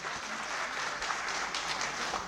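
Applause from a mushaira audience, a steady dense wash of many hands clapping at moderate level, continuous for the whole stretch with no voices.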